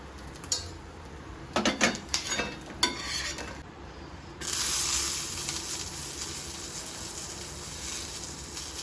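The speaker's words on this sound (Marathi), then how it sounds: "मी अगोदर खोबरं भाजून घेते हे ओलं खोबरं आहे" Fresh grated coconut roasting in a pan: a few scraping stirs of a spatula early on, then a steady soft sizzle and hiss that carries on quietly to the end.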